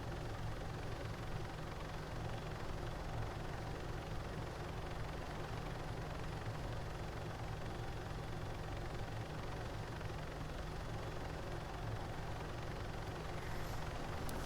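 Helicopter flying in Call of Duty Modern Warfare 3, a steady, continuous rotor and engine drone that stays level and fairly quiet throughout, with no talking.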